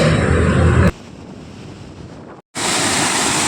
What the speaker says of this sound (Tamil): நீங்கள் பார்த்து கொண்டிருப்பது சிற்றாறு அணைக்கட்டு அருவி